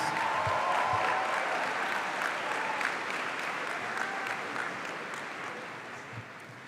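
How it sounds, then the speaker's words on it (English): A crowd at a high school graduation ceremony applauds the band after it plays Pomp and Circumstance, with steady clapping that slowly tapers off. "Can we please give them a round of applause?"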